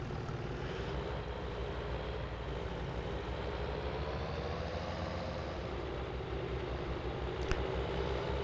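A Fendt tractor engine in Farming Simulator 19 drones on in a loud, steady, unbroken rumble from start to finish, with no voices.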